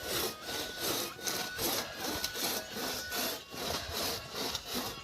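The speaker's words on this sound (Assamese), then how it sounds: "এয়া খৰি কাটিছে" Firewood is cut with a hand saw in steady back-and-forth strokes, about two per second, loud and close, a rhythmic rasping with no talk.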